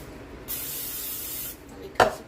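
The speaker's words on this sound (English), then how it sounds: "I'm going to spray my measuring cup" Cooking spray hisses into a measuring cup in a steady one-second burst, close and fairly loud, followed by a short sharp clatter near the end; no talking.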